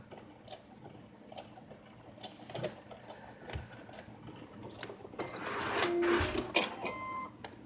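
A home sewing machine stitches a Simplicity robe with a rapid mechanical ticking and whirring, quiet at first and then running louder and steadier near the end, with occasional handling clicks.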